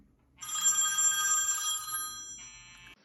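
An iPhone 4S alarm ringtone playing, a bright electronic ringing melody with sustained tones that starts after a brief pause, runs about two and a half seconds, then shifts pitch and stops, clear and close.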